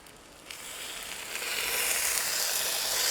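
Fish frying until crispy in a pan makes a steady, close sizzling hiss that gradually swells louder and continues without pause.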